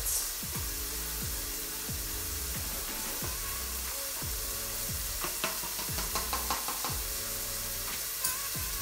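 Mushroom mixture for a mushroom sauce sizzles loudly in a hot pot while a spoon stirs it in repeated scraping strokes, a steady frying hiss running under the rhythmic stirring.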